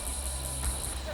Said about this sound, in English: After dark, male cicadas call to females,